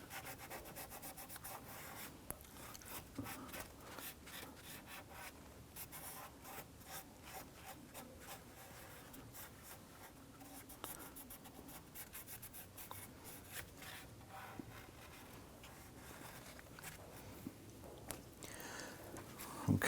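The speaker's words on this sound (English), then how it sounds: "Spray a little bit of solvent on a rag and go ahead and wipe down here" A solvent-soaked rag wipes down a gasketed engine part on a 2017-2020 Hyundai Elantra 2.0L four-cylinder, making steady, faint, close rubbing and scrubbing sounds throughout.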